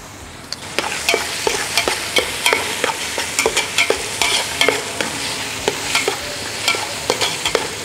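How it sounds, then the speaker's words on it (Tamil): Cucumber seeds being sautéed with ash gourd for halwa in a pan, a steady close sizzle broken by repeated scraping stir strokes in an uneven rhythm, with no talking. "இப்போ வெள்ளரி விதை நல்லா வதங்கிடுச்சு"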